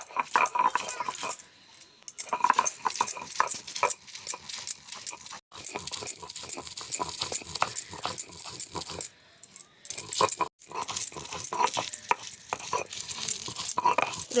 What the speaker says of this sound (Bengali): এবারে মশলাগুলো বেটে নেব।